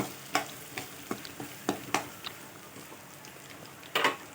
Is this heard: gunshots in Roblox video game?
no